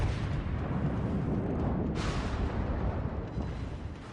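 Warship guns firing in a naval combat video game, a steady deep rumbling roar of distant heavy artillery with a louder blast around the middle.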